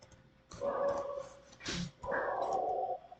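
A dog gives a few drawn-out whining barks and yelps nearby, in two main bursts with a short sharp cry between, in a quiet room during a computer screen recording.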